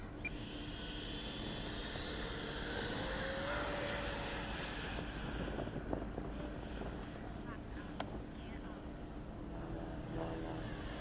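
A fixed-wing airplane engine drones steadily overhead at a grass Army stage field, a continuous broad hum holding at moderate, fairly distant loudness throughout with no break.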